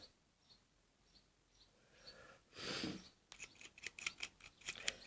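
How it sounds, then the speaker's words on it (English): A tool lightly scraping rust off a steel hook makes a quiet swish, then a run of fast, fine rasping strokes close by, growing slightly louder toward the end. "Very lightly scraping. Don't brush too hard. Just gently. And you'll take it right back to the steel of the hook."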